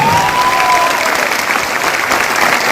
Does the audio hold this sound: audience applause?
yes